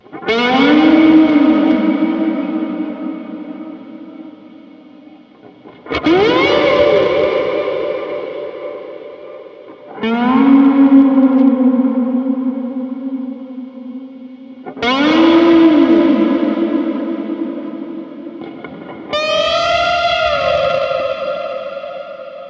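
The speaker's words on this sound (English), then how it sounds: "cake this one in reverb to really experience that subterranean, ancient whale sound" Processed guitar notes swell and bend in long, mournful cries, drenched in echo and reverb, repeating about every five seconds like distant whale calls.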